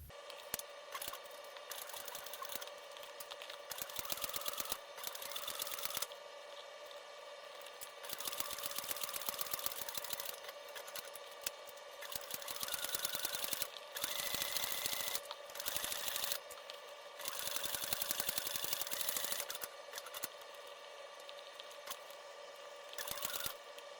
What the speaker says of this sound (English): Okay, let's go stitch the base.